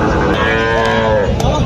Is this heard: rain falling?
no